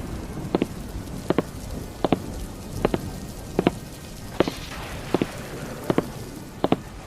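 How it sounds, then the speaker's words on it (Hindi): Rain falling in a village as a steady soft wash, with distinct drops or drips striking a surface at an even, rhythmic pace close by. "गांव में जोरों की बारिश हो रही थी।"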